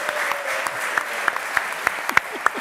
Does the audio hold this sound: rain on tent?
no